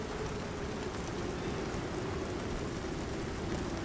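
Steady rain falling in the survival video game Icarus, a continuous even hiss with no breaks, heard alone at low volume.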